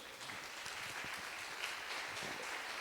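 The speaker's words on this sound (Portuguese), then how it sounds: "Aplauda o Senhor, porque Ele é bom." A church congregation claps in a soft, continuous patter, faint and somewhat distant, with no voices over it.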